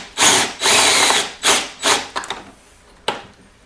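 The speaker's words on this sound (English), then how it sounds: "let's tackle these rivets" A power drill bores out rivets in several close, loud bursts of whirring spin, each ending in a short gap, followed by a few small clicks and a sharp final snap.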